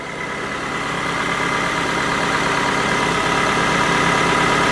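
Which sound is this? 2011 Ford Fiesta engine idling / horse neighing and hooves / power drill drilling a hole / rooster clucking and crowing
2011 Ford Fiesta engine idling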